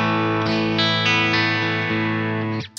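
Sustained chords on an electric guitar played through a Boss IR-200 amp simulator set to a Fender Twin model, bright and slightly harsh with a few chord changes, loud and close, no talking, ending in a brief scrape.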